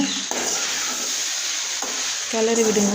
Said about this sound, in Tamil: இப்போ அந்த சாதத்தை சேர்த்து நல்லா கிளறி விடுங்க.